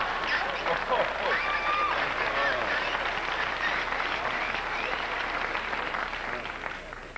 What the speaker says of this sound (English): this is called an applause box